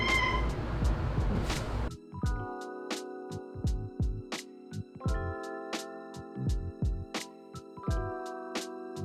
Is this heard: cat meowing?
yes